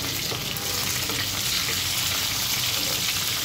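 Chicken pieces frying in a pan give a dense, continuous close-up sizzle and crackle at an even level throughout, with no one speaking.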